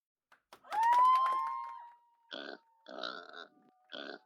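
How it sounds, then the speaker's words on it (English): A pig's loud drawn-out call rises and fades, then three short, rough grunting bursts follow at steady intervals. "Pig."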